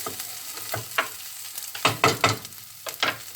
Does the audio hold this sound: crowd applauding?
no